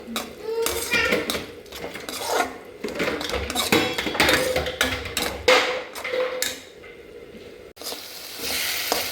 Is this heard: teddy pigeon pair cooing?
no